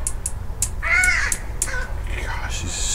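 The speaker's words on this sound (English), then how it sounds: "Gosh, these stupid crows." Crows cawing outdoors, several harsh caws including one loud, close call among shorter calls, over steady background noise.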